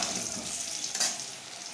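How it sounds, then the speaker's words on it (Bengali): Potatoes frying in oil until browned, a steady, close sizzling hiss that holds for the whole stretch with a brief swell near the middle. "আলুটা সুন্দর করে আমি লাল লাল করে ভেজে নিয়েছি"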